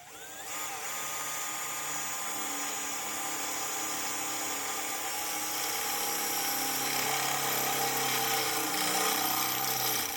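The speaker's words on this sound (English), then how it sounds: "So we're gonna go ahead and drill these holes now." A power drill whines continuously at high pitch for about ten seconds while boring holes during a Jeep TJ Unlimited bumper install. It sits close and steady and grows slightly louder toward the end.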